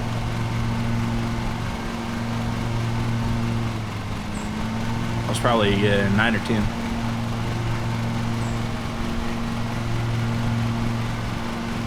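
A small engine drones steadily throughout, with a low, even hum and a faint high whine, while someone speaks briefly over it partway through.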